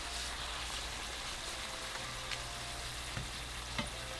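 A folded tortilla fries into a taco shell in hot oil, a steady, close sizzle and crackle with faint pops and small scraping taps running throughout.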